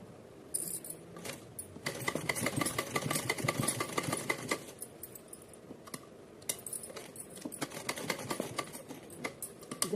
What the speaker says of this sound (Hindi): अब आराम से पूरे नेफा पे सिलाई लगा सकते हैं